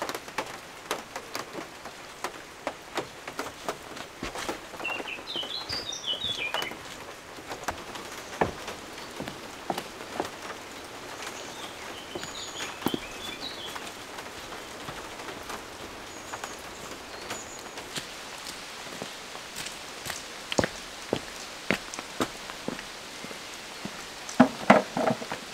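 Steady rain patters on surfaces nearby, with scattered heavier drips and a few faint bird chirps in the distance.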